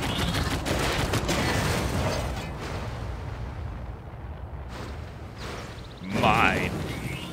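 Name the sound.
gunfire in the video game Civilization 6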